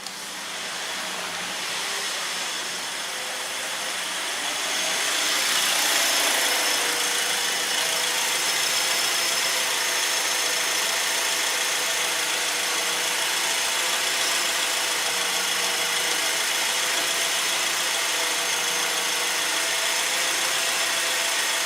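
A 2010 Honda Accord engine, long cranking before it catches, rises into a steady, even idle that carries on close and moderately loud, with no talking.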